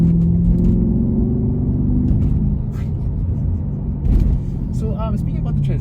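A 420 bhp Audi RS4 B7 Avant with a V8 and six-speed manual gives a steady, deep engine rumble underneath ongoing conversation, with a brief louder surge partway through.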